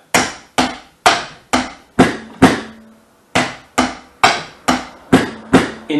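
A drum kit plays a linear pattern with double kick strokes, a steady run of sharp, loud, evenly spaced hits heard close, with a short pause partway through.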